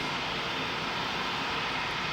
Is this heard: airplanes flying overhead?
yes